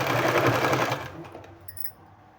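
A sewing machine rapidly stitches a folded two-inch fabric strip, whirring loudly for about a second before slowing and stopping, followed by a few faint mechanical clicks.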